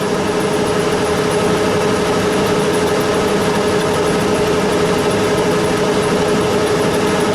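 A lathe hums steadily, lightly skimming the tops of machined threads. The continuous motor drone carries a faint cutting hiss with no breaks.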